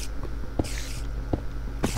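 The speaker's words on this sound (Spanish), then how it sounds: "Estas son arañas de cueva." Cave spiders in Minecraft make repeated short hissing, clicking chitters at regular intervals over a steady ambient hum, fairly close, with no speech.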